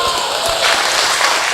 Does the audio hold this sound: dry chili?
no